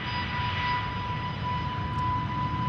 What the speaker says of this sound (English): waiting for the Suriname Airways A340